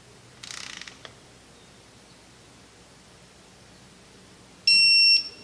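A ratchet clicks in a brief rapid burst while tightening a bolt during a Honda head gasket job, then a loud, steady electronic beep sounds near the end.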